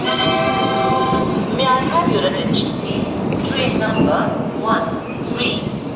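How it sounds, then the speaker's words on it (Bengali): A passenger train pulling out of Malda station on the Siliguri line grinds along with steady rumble and loud, sustained wheel squeal, bright metallic tones holding throughout at close range. "আমাদের ট্রেন মালদা থেকে শিলিগুড়ি লাইনে রওনা দিয়েছে,"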